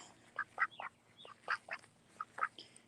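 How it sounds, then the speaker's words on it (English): A duck in a backyard garden gives a run of short, nasal quacks in irregular bursts, fairly faint and at middle distance over quiet outdoor background, with no talk. "Duck."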